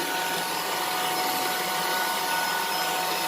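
A Puppyoo A9 cordless vacuum cleaner runs steadily at close range, a loud, constant high-pitched airy whine with a faint tonal hum and no pauses.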